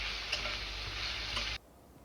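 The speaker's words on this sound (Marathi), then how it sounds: "शिमला मिरची आपल्याला एक ते दीड मिनटं हाय फ्लेमवर छान अशी परतवून घ्यायची आहे" Capsicum and onions stir-fried on high flame, a steady moderate sizzle with a couple of light spatula taps, cutting off abruptly to near silence.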